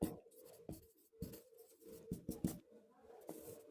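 Chalk or marker strokes on a classroom board, a run of short scratchy taps and scrapes in an irregular rhythm, close and fairly quiet, with no talking.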